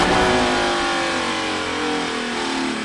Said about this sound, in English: We heard him release the speed limiter and then grab a gear